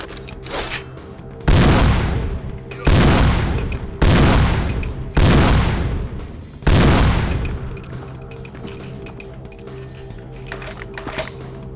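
Five heavy, booming Desert Eagle shots from a video game ring out in an evenly spaced sequence, each one loud and followed by a decaying tail, with a quieter stretch afterward.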